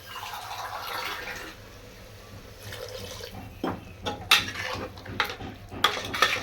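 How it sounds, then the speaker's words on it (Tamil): Water pours into a pan of keema pasta on the stove, a soft rush followed by clinks and scrapes of a utensil against the pan, close and clear with no talk. "இதில் கொஞ்சம் போல் தண்ணி சேர்த்துக்கிறேன்"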